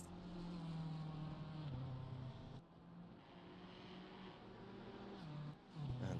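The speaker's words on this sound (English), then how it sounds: "I love that sound of that GTR" Nissan GT-R race car in Assetto Corsa Competizione at Imola, engine droning loud and steady with pitch shifts through gears, a brief lift around the middle before the roar returns.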